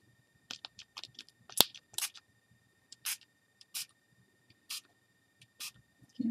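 Short bursts of ink from a Tsukineko spray bottle hiss out one after another, irregular and close, with quiet pauses and a few small clicks between them.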